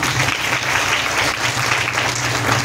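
Women at a village council meeting in Singanapur clap together in a dense, even round of applause that holds steady and close throughout.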